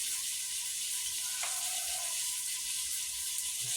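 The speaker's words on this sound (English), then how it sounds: "You can hear that sear." Meat searing in a crock pot while browning for a British curry, a steady broadband hiss of frying held throughout, fairly quiet and continuous with no talking.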